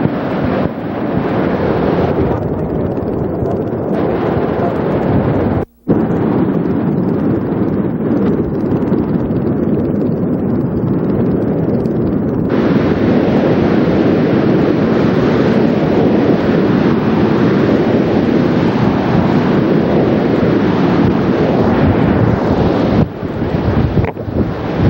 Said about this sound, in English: You can tell just by the sound the fury of the water going over the falls.